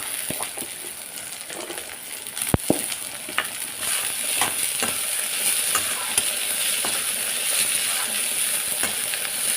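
Continuous sizzling of broad beans sautéing in a pan, with scraping and stirring clicks of a utensil and one sharp metallic clink, no talking.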